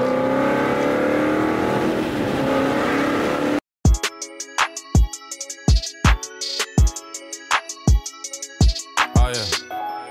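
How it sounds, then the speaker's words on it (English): Road traffic, with cars driving past: a steady engine rumble first, then a short gap, then a series of loud, sharp passing sounds that come one after another at an irregular pace. "Bit of traffic."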